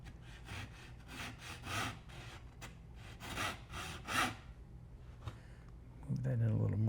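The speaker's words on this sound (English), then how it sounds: "We can always clean this up with a chisel if we don't get a good cut right from the" Hand saw cutting through wood while making winding sticks in a woodworking shop, a steady back-and-forth rasp of repeated strokes, close and moderately loud, with a voice talking over parts and a low thump near the end.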